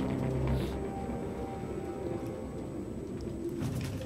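Pigeon cooing in the game Detroit: Become Human, a soft low repeated coo over a steady ambient background hum, moderately near, with no talking.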